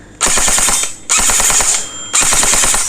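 An electric M4 CQB gel blaster fires three loud, close full-auto bursts of rapid, even shots, each lasting about a second, with brief pauses between them.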